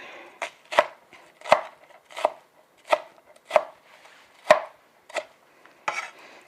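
A knife chops onion on a board in slow, uneven strokes, about nine distinct thuds spread over several seconds, close and fairly crisp, with no talking.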